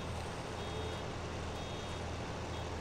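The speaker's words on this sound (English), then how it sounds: "And it's been beeping for a long time, and I couldn't even hear it." A vehicle in the video game Farming Simulator 19 gives off a steady, thin reversing beep over a continuous low engine rumble, heard alone and without talk.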